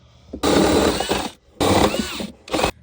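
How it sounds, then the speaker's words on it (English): Three bursts of a power drill whirring into the bottom of a cedar fence-picket planter box, each lasting about a second with short pauses between, close and loud. "The last step for this build is to drill 2 holes in the bottom of the box"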